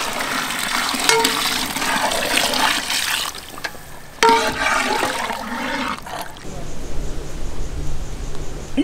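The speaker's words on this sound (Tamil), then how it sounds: "தேவையான அளவு கொஞ்சம் தண்ணி சேர்த்து விடுங்கக்கா." Water poured into a cooking pot while making Peshawari pulao, a steady rushing, splashing pour heard close for several seconds before it stops and quieter background noise remains.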